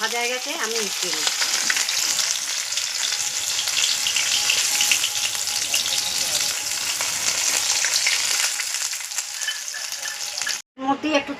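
Small fish frying in hot oil for a Bengali fish curry, a steady dense sizzle and crackle close up that runs unbroken for about ten seconds, then cuts out briefly near the end before resuming.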